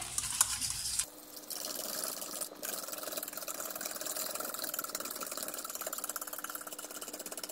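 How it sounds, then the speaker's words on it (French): A whisk beats sugar and lentil purée vigorously in a bowl, a faint, fast, even scraping rhythm that continues steadily for several seconds. "on prend un fouet et on mélange énergiquement."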